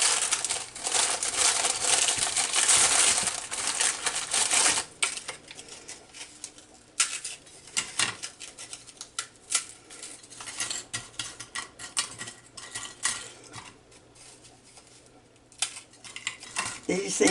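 Graham crackers snapped and dropped into a 2-quart casserole dish, crisp crackling and crunching bursts with light clinks against the dish, close and intermittent, heavier at first then sparse.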